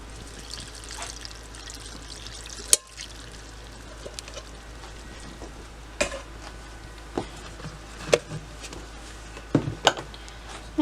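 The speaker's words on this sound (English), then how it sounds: "Now we're going to add heated up chicken broth, which I've already heated up the whole carton in a pot." Heated chicken broth poured from a carton into a bowl while making Southern dressing, a soft steady liquid pour with a few sharp clinks and knocks against the bowl, quiet and close.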